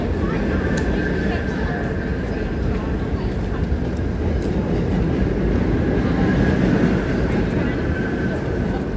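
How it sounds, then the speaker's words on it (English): A New York City subway train rumbles loudly beneath a street ventilation grate, a steady continuous roar with faint clicks, while a person talks over it outdoors. "That loud sound you hear is the train."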